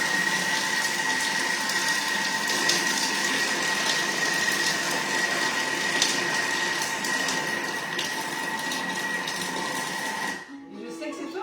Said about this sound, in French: on va mélanger 10 secondes vitesse 4, mais en sens inverse